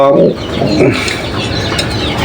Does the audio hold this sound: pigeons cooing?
yes